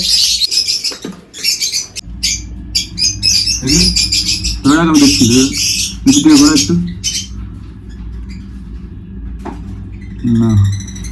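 Lovebirds in a breeding colony of nest boxes give loud, harsh squawks and chirps in repeated bursts, close by, with a person talking over and between the calls.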